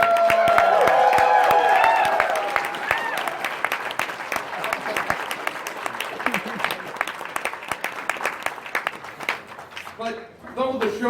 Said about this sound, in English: I'd like to ask everyone for a round of applause for the people who made my little pony possible